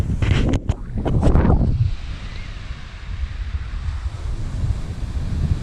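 Sea waves wash onto a sandy beach in Greece, a steady close roar of surf with wind buffeting the microphone, joined early by a few loud bumps and rustles of movement nearby.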